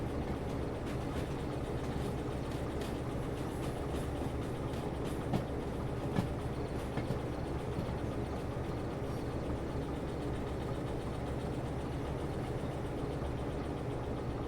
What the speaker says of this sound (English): I have got to be able to hear my train